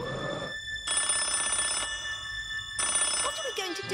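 A telephone bell rings in two long bursts with a pause between, going unanswered in a cartoon setting, loud and close, with a brief voice starting at the end.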